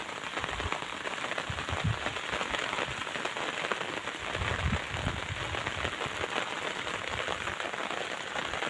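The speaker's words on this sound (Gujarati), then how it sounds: "વરસાદ પણ ચાલુ છે" Steady rain falls over an open cotton field, a continuous broadband hiss of drops with a few louder low thumps, constant and fairly close throughout with no voices.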